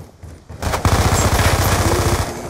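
Rapid automatic gunfire in Call of Duty Black Ops 2 erupts loud and close, a dense sustained burst of shots running steadily for about two seconds.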